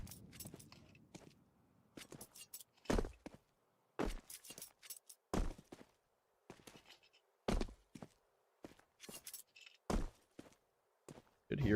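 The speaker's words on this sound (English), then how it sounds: "Good hear all this jumping." Players jump during a Counter-Strike match, producing sharp landing thuds and scuffing footsteps in irregular bursts separated by short silences.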